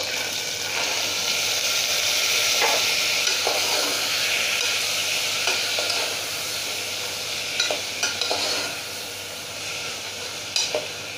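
Washed ingredients added to ghee in a frying pan and stirred, a steady close sizzle with intermittent scraping clicks of a spoon against the pan, fairly loud and without talking.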